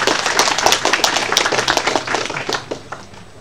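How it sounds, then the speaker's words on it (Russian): Audience applause at a cloud technology conference, a moderate crowd clapping in quick irregular bursts that gradually thin out and soften. "я предлагаю сейчас вам аплодисменты, собственно, вам же."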